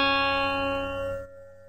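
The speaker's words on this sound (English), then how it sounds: "So the good string, the high string," High string of a six-string guitar plucked, one clear sustained note ringing steadily and close before cutting off abruptly, no talking.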